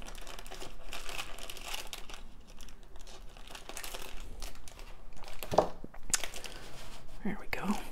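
Polymer clay packages being cut open at close range, with crinkling plastic wrapper, scissor snips and tearing sounds at a quiet level.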